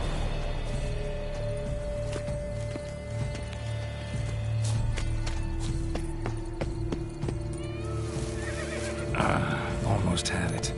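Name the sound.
horse neighing in video game The Witcher 3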